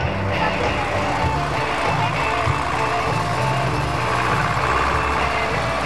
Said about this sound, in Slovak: Pokračujeme smerom na cestu s malým traktorom.